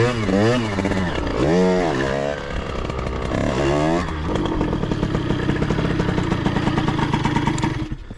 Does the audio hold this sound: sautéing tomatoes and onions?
no